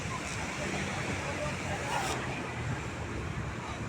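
Waves wash steadily onto a small private beach with cold water, a constant broad rush of surf mixed with wind buffeting the microphone, with faint voices in the background.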